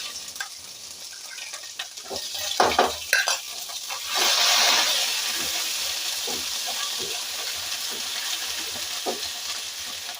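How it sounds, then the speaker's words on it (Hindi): Ginger garlic paste and whole cloves with cinnamon sizzling in hot oil in a frying pan for a potato egg curry, with stirring scrapes early on and then a steady, close frying hiss. "दो चम्मच यहाँ पर अदरक लहसुन का पेस्ट जाएगा।"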